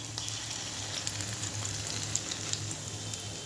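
Food sizzles steadily in a frying pan in a home kitchen, a continuous close, even crackle with a few sharper pops and no voices.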